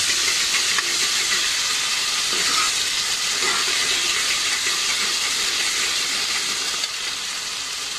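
Onion with ginger garlic paste sautéing in a pan for a coconut milk pulao, a steady close hiss and sizzle running unbroken throughout with faint crackles.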